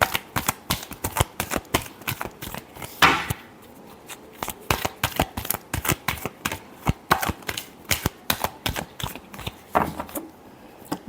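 Tarot cards are shuffled by hand in a last shuffle before a reading. Quick crisp riffles and slaps repeat through the whole stretch, close up, with no talk.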